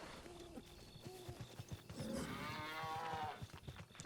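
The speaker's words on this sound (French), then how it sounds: "Il y a une vache qui fait meuh." A cow moos loudly in the video game The Legend of Zelda: Breath of the Wild. One long, low call rises above a soft background of rhythmic clopping game sounds.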